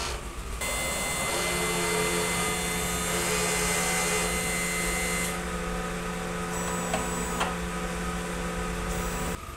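A sublimation printer runs a print head cleaning cycle with a loud, steady mechanical whir and hum throughout, and short tonal shifts and clicks as the cycle changes stages.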